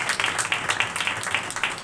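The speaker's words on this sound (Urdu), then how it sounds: "میں چاہتا ہوں ایک دفعہ ہم زوردار تالیاں تمام ماؤں کے لیے بجائیں گے" A church congregation claps loudly for mothers, a dense, steady wash of many hands at close range, sustained throughout with no speech over it.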